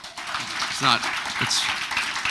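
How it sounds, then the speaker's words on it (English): Audience clapping at a township committee meeting, a dense, steady wash of applause filling the room, with a voice briefly speaking over it. "Again, another clap"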